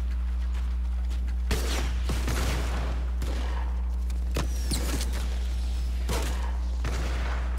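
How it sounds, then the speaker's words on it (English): Sharp gunshots and explosive booms from a video game build fight, including a rocket, burst out in irregular clusters over a steady low hum, loud and close. "Missed that rocket by an inch, bro."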